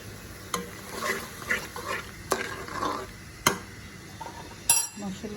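Spice paste of ginger, garlic and cumin fries in a pan for a fish head curry, a low sizzle broken by spoon scrapes and several sharp clanks against the pot.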